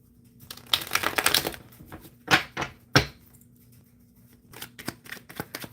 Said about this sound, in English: Shuffling for Cyan. Let me give it a good shuffle.